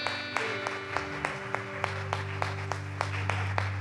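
A church congregation claps during a Sunday service as a pastor is welcomed; evenly spaced, rhythmic claps ring out over sustained organ-like tones and a low hum, moderately loud.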